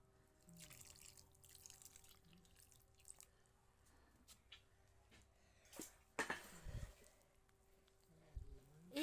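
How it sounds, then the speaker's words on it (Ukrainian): Warm water poured onto freshly transplanted eggplant seedlings in soil, soft close trickles and drips coming in short bursts against a quiet background with a faint steady hum. "Зараз я його полью."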